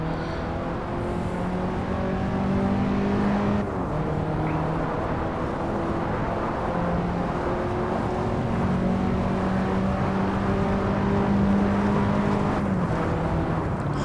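A racing car engine in a VR racing game drones steadily and loudly, holding a buzzing note that shifts pitch in steps as it accelerates down the back straight.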